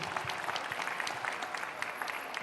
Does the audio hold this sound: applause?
yes